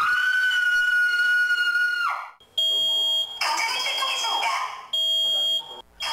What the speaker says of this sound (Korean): 화장실에 설치된 IoT 비상벨 덕분입니다